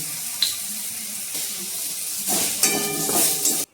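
Liquid lentil dal poured into a hot pan of fried leaves and asafoetida rushes and splashes like running water. It swells into a louder hissing gush in the second half and then stops abruptly.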